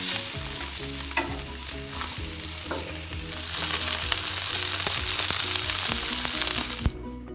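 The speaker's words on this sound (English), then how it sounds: "Now we're just searing in all that flavor" A porterhouse steak sears on a hot grill, a steady close sizzle and crackle that swells louder midway, with occasional sharp pops and soft scraping.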